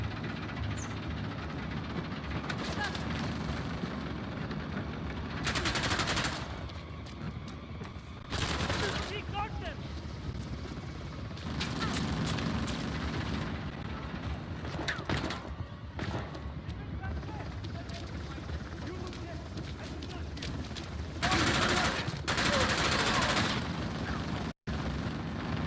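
Bursts of gunfire from the Uncharted: The Lost Legacy video game, several volleys of rapid shots spread through a busy battle soundscape with a voice talking over it.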